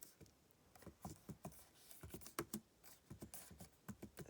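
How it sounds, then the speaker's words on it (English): Slow one-handed typing on a computer keyboard produces quiet, uneven clusters of key clicks, close by and alone, with short pauses between bursts. "sorry, I'm typing with one hand, so it's very slow"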